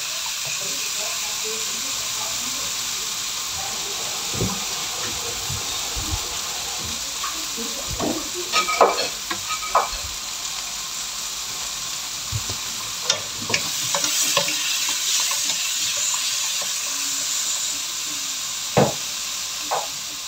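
Garlic and tomatoes sauté in a pan with a soft, continuous sizzle under scattered scraping and clacking from stirring, in a home kitchen cooking sweet potato leaves with sardines.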